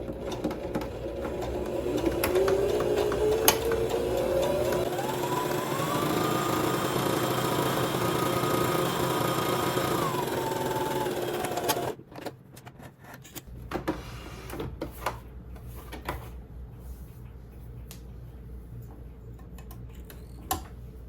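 A domestic sewing machine stitches a seam on a misses' jumpsuit, a steady close whirring drone with a rising and falling pitch for about twelve seconds, then stops, leaving faint handling clicks and rustles.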